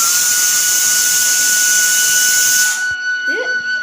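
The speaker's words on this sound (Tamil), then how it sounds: "இப்போ குக்கரில் வேக வச்சுருக்கோம் தட்டைப்பயிறு." A pressure cooker vents a loud, sustained high-pitched steam whistle with hissing while cooking cowpeas, then abruptly cuts off near the end, leaving a faint sputter and brief rising squeak.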